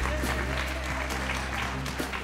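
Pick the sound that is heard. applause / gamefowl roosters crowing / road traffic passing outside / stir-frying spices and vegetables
applause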